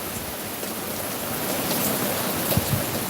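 Heavy storm rain falls steadily and densely on surfaces nearby, a continuous hiss with a few sharper drops and knocks, no voices.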